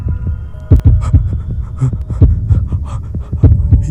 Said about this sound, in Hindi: दिल जोर जोर से धड़कने लगा। सांसें तेज हो गई।